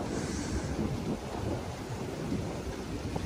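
Heavy rain pouring during a windy thunderstorm in Canada, a dense continuous roar of rainfall with low rumbling and wind buffeting the microphone, loud and unbroken.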